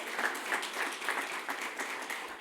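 An audience at a church service claps in a dense, continuous ripple of applause, steady and moderately loud throughout.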